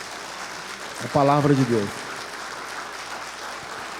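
Church congregation applauding, a broad continuous wash of clapping heard under a brief spoken phrase from a preacher, steady and moderately distant throughout.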